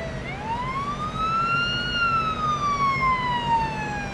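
An ambulance siren in a police patrol video game wails in a single long rising and falling sweep, loud and steady over a low rumbling engine and road noise.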